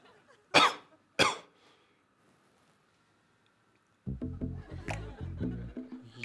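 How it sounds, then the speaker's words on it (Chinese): Two sharp, loud coughs come close together at the start of a medical exam, one right after the other. Then comes a pause of near silence, and a person begins speaking afterward. "咳嗽，咳两声。"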